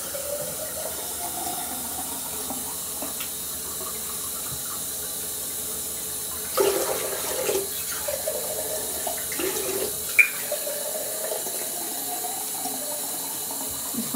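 Water runs steadily from a tap into a sink, a continuous close hiss with a few brief splashes and one sharp knock near the end.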